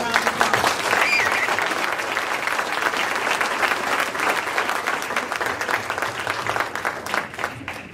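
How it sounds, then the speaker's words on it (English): A room of people at a school board meeting applauds recognized National Honor Society students, steady dense clapping for several seconds that thins out toward the end. "Please give them a round of applause"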